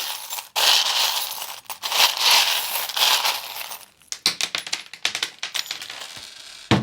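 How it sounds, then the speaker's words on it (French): Dice rattle and clatter in quick bursts, settling with a series of light clicking taps after a stretch of rustling handling noise, during a tarot-style reading. "je vais juste lancer un petit peu les dés"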